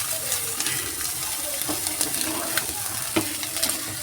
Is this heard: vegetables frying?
yes